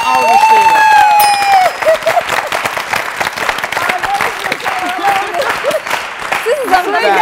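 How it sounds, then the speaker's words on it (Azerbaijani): An evening show audience applauds between songs, a dense crowd clapping steadily for several seconds while music tones ring and a voice speaks over it. "alqışlayırıq"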